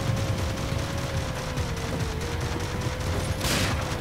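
Sniper gunfire in the Death Rally racing game: a run of sharp shots crackling over a steady engine drone, with a brighter burst near the end and no speech.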